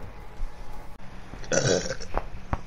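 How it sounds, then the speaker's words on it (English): A loud, drawn-out burp erupts during a Prop Hunt game session, rumbling for about a second and ending in a brief tail, with muffled background noise before and after. "That was a whole burp."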